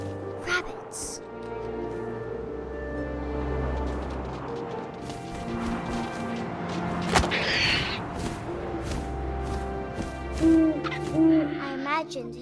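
An owl hoots within the video game What Remains of Edith Finch: a short run of soft, low calls near the end, set against steady wind-like ambience and a voice.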